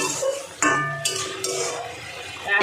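Mourala fish curry with kasundi and coriander leaves being stirred in a pan, with soft scraping and clinking of a spoon against metal over a low background hum, no talk.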